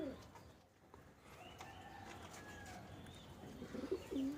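Racing pigeons coo steadily inside a home loft, soft throaty calls repeating close by with occasional chirps and rustling over a low background hum.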